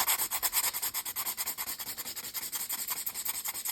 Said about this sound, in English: just sand that lip down so it's not as sharp